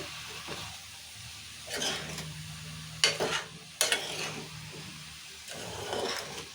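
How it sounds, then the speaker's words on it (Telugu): Ridge gourd pieces are stirred in a cooking pan, giving soft scraping and sizzling with a few sharper utensil knocks against the pan, close by and moderately loud with no talking. "ఇప్పుడు బీరకాయ ముక్కలు వేసుకుందాము కలుపుకుందాం"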